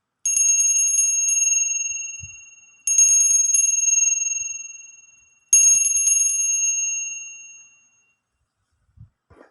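A bell rings three times in steady succession before a fortune-telling reading, each clear, bright metallic strike ringing out and fading slowly, close by with quiet gaps between.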